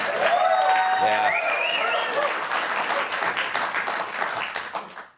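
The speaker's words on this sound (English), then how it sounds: "See, we do clap for her." Loud, sustained applause from a large crowd, steady for several seconds before tapering off at the end, with faint voices mixed in.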